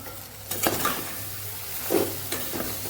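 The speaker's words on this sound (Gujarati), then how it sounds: "બધું સરસ મિક્સ કરીને સાતડી લેશું અહીં" Potato bhaji, a dry potato dish with chips-style sliced potatoes, fresh coriander and salt, being stirred and sautéed in a pan, with soft sizzling under a few scraping stir strokes, close and moderately quiet.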